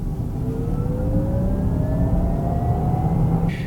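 An all-wheel-drive 2024 Honda Prologue electric SUV accelerates up a steep Vancouver hill, giving a steady, close, rising electric motor whine over heavy road and tire rumble, with no talking.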